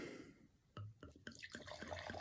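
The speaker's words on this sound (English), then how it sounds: "Pour that, just enough for the tasting." Wine poured into a tasting glass, a string of close gurgling, dripping splashes that build and fill in a quiet room.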